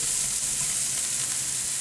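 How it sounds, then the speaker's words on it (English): Carrots boil in a pot of water with a steady, dense bubbling hiss that stays even throughout, with no talking. "These carrots have been boiling for 10 minutes."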